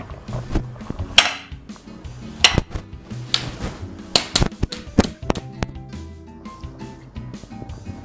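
A hot pineapple upside-down cake is flipped out of its pan, bringing a scatter of sharp metallic clanks and knocks from the pan and utensils, near and irregular, with quieter handling noises between.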